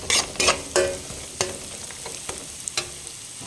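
Carrot pieces and curry leaves frying in a pan, heard as intermittent sharp sizzling bursts and stirring scrapes, moderately close, with no voices.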